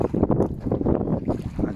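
Steady wind buffets a sailboat at sea in light, dropping breeze, a close, continuous rushing gust noise on the microphone with rolling swells of intensity and no speech.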